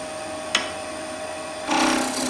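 A skew chisel cuts wood on a lathe with a steady hissing shave over the spinning work, a brief sharp tick early on, then a louder, rougher scraping passage near the end.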